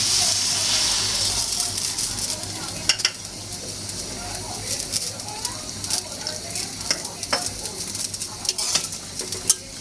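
Small kachki fish with okra, stem greens and potato sizzling steadily in a pan after a splash of water, with stirring scrapes and clinks over the constant hiss.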